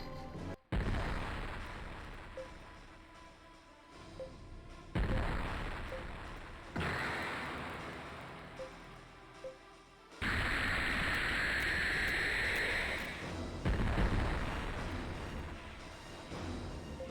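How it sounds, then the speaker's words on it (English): Particle cannon blasts in the space video game Infinite Space, a series of loud booming shots with sharp attacks and long decaying rumbles, one followed by a sustained whooshing roar. "Another particle cannon."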